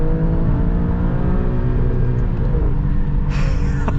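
Alfa Romeo Stelvio Quadrifoglio performance SUV engine droning loud and close under manual control, with the pitch climbing as it revs on a downshift, then a sharp blip near the end.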